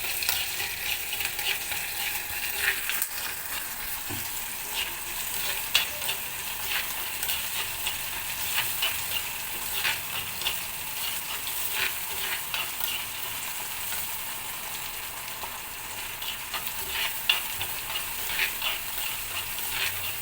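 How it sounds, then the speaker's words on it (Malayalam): A steady, close sizzle of a Kerala fish curry base sautéing in a pan, punctuated by soft stirring scrapes, continuous and even throughout with no voices. "പിന്നെ ചെറുതായിട്ട് നല്ലോണം വഴയട്ടെ"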